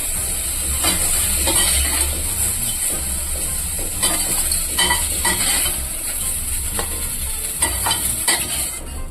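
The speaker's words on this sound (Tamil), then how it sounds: "இப்போ வந்து மஷ்ரூம் பண்ணலாம். கொஞ்சம் நல்லா நம்ம வதக்கி எடுத்துக்கிறோம்." Mushrooms sautéing in a little oil in a pan, a steady loud sizzle and hiss with repeated scrapes and clinks of stirring, close up and without talk.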